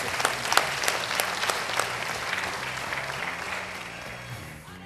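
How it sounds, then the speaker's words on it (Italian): Applause from an audience at a Rotary International District 2060 assembly in Vicenza: a dense burst of clapping, strongest early with a few sharp louder claps, then thinning and fading out. "Chiedo un applauso per il nostro..."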